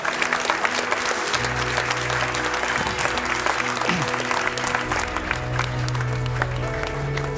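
A church congregation claps steadily and fairly loudly during a service, with the applause running continuously while music and singing sustain underneath.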